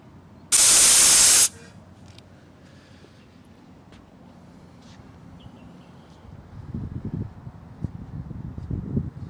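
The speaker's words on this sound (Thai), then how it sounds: "แนะนำให้ ดึงถ่ายน้ำหลักทางลมนะครับ" Compressed air bursts out in a single loud hiss for about a second as water is drained from the air brake tank of an FRR 190 horsepower truck, followed by quiet background noise and low rumbling.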